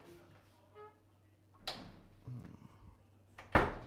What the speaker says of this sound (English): I need to close the door.